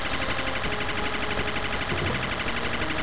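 Beam cannons firing in the video game Super Robot Wars Judgment, a dense, loud, continuous burst of rapid crackling shots that fills the whole stretch without pause.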